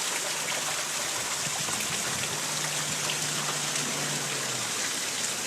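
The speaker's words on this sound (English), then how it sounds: "We got hammered. All the hail." Heavy hail pelting a porch during a spring storm, a dense, steady roar of countless small impacts close by, with a faint low hum running underneath.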